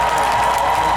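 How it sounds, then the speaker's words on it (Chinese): Audience applause at the Amis Music Festival in Dulan, Taitung, after a ukulele class performance: a steady, dense wash of clapping from a crowd, continuous and fairly loud throughout. "掌声要持续哦"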